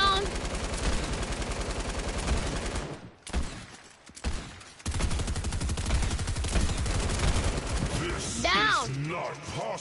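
Rapid bursts of gunfire rattle almost continuously, pausing briefly before resuming, with brief voice sounds mixed in near the end.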